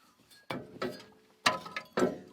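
A hand wrench working a loose bolt out of a Hummer drive line, a few sharp metallic clicks and clinks in an uneven rhythm, close and fairly quiet, with no talking.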